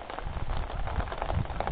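Steady rain patters and hisses across a rocky boulder field, an even, dense wash of drops with no voices.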